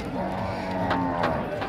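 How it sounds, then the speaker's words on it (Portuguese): An ox lows steadily at a cattle fair in Tabira, a sustained deep moo with rising tonal sweeps over a dense crowd murmur and background noise. "Ah, boi!"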